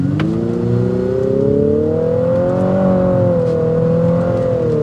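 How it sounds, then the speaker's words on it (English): An Infiniti QX55 with a VC turbocharged engine accelerates in sport mode, a strong steady engine note climbing smoothly in pitch and then leveling off, heard from inside the cabin. "with this VC turbocharged engine in sport mode"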